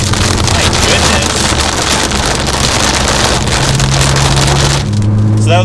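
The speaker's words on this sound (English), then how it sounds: "now it's downpouring, you can hear that" Dense, steady roar of heavy rain drumming on a Nissan GT-R while driving, blended with engine rumble and wind buffeting, loud and continuous throughout.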